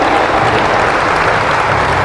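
Dense, steady applause from a church congregation at a Cavite City worship gathering, a continuous wash of many hands clapping at even loudness throughout, with no voices standing out.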